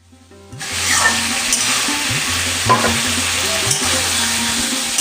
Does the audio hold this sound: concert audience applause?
no